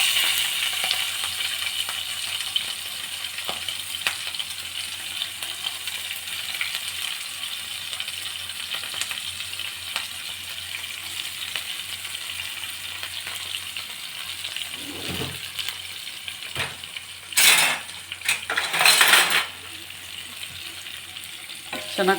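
Onions and green chillies frying in oil for chitranna, a long continuous close sizzle with occasional faint clinks, and a few louder scraping, rattling stirs near the end.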